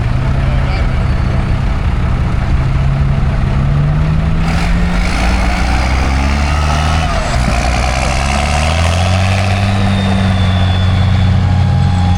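An Alvis military vehicle rumbles in a show arena at a rural fair, its engine a loud, steady diesel drone with shifting pitch as it manoeuvres, and faint voices talking nearby.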